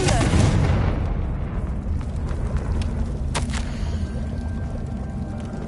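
A Confringo fire spell explodes in the video game Hogwarts Legacy, a loud, heavy boom at the start that rumbles and fades over several seconds, with a fainter sharp crack partway through.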